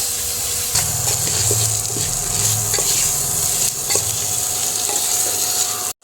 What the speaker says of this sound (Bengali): এবার আমি নেড়ে চেড়ে দেবো সুন্দর করে আরেকবার।